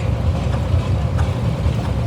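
A fully restored six-cylinder Continental engine, built between 1940 and 1958, runs steadily at an antique engine show with a continuous low rumble and no voices.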